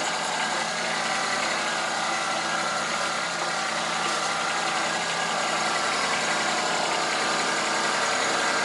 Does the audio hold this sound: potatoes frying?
no